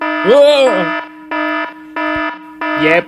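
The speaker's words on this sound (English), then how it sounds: "that's my alarm, alright." An alarm clock beeps in a steady series of loud electronic pulses, with a voice speaking over the first and last beeps.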